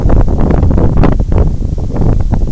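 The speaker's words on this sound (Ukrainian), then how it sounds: "Вибачайте за вітер, він певно сильний." Strong gusts batter the microphone with loud, rumbling buffeting that swells and dips without letup, outdoors in a field while metal detecting.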